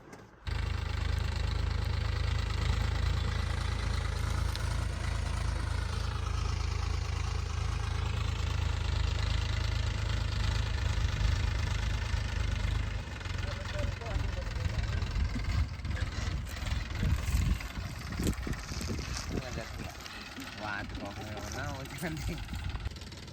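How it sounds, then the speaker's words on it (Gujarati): A Mahindra Yuvo tractor engine idles and chugs loudly and steadily up close, later shifting to rougher, uneven knocking as it works leveling farmland. "કાકાને ટ્રેક્ટર ચલાવવા માટે આપેલું છે"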